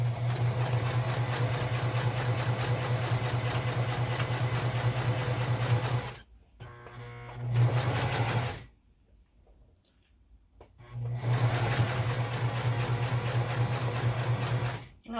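A sewing machine stitching jacket pieces runs in a steady, rapid whirr, breaks off for a few seconds with a short burst in between, then resumes its even buzzing stitch, close and alone.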